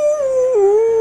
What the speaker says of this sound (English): No, he's going to howl.